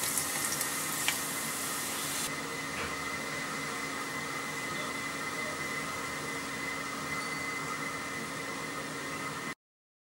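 Water is poured into a pan of karupatti palm jaggery for paniyaram batter, giving a steady, hissing pour that runs evenly and then cuts off abruptly near the end.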